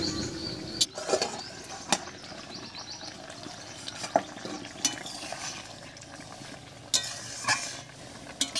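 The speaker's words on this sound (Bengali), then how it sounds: "এবার ঢাকা খুলে নামিয়ে নিচ্ছি।" A pot of tangra fish curry with green chilli and cumin paste is uncovered and lifted off the heat, giving steady soft bubbling and sizzling with several sharp metallic clinks of lid and pot spaced through it.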